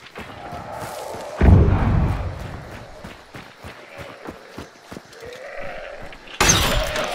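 A bomb lance fires in a video game with a sudden loud blast, then a second sharp burst near the end, among scattered thuds and game noise.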